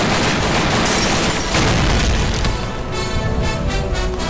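Police officers firing guns in a Hindi-dubbed action movie scene, a loud dense volley of booming shots and crashes blended with the film soundtrack, steady throughout with no clear speech.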